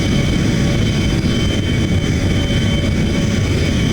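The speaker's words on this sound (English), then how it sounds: "You have to use P to power up this plane" A steady, loud jet roar from an ME262 fighter jet engine in BeamNG.drive, a broadband rushing drone holding constant throughout with no voices.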